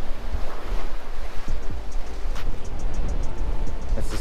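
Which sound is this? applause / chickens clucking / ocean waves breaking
ocean waves breaking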